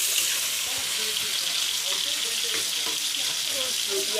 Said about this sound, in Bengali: খুব সামান্যই আলু ভাজছি, তাই আমি ছোটো ফ্রাই প্যানটা করে নিচ্ছি।